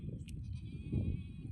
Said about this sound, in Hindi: ये हैं उत्तराखंड के पहाड़ों में रहने वाली भेड़ और बकरियाँ